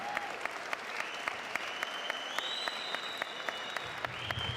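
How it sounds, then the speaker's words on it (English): A fight crowd applauds both fighters after a five-round main event: continuous dense clapping fills the venue, with sharp individual claps standing out and a whistle sliding upward above the noise. "big round of applause to both fighters for a fantastic main event"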